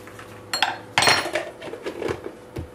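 Butter being mixed into mashed pumpkin with a utensil against a bowl, giving a few close scraping clinks and knocks, loudest near the start, then softer irregular stirring.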